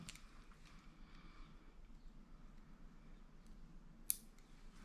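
Scissors snip the leftover tail of fishing line after a knot on a catfishing rig: a single faint click in an otherwise quiet room.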